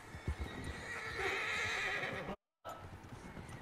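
Horse in Red Dead Redemption 2 Online, a loud drawn-out whinny over a few hoof clops close by, with a brief dropout of total silence before the sound resumes.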